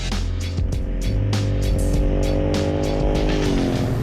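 An Aprilia Caponord Rallye motorcycle engine roars loudly and revs hard with rising pitch as it is ridden fast on the road, close by and continuous.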